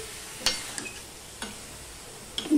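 Pumpkin greens and potatoes are stirred in a pan over medium-low heat, with a faint background sizzle broken by a few sharp utensil scrapes and clicks.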